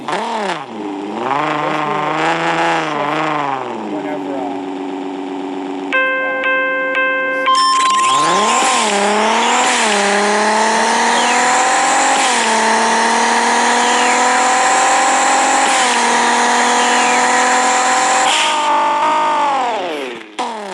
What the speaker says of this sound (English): That's how you drag race